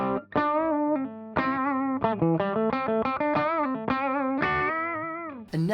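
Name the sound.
electric guitar through compressor pedal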